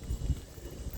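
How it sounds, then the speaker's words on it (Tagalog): Horse hooves clip-clopping close by at botanical gardens in Niagara, a few soft, low thuds in a loose rhythm, fairly quiet with no talking. "Ayaw pakita ng kabayo, mahihain siya."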